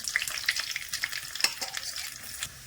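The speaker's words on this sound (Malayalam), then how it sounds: "കുറച്ച് വെളിച്ചെണ്ണ ഒഴിച്ചു കൊടുക്കാം ചെറിയുള്ളി ഇട്ട് കൊടുക്കാം" Shallots crackle and sizzle in hot coconut oil, a tempering for cucumber curry, with a steady close frying hiss broken by small sharp pops and no talking.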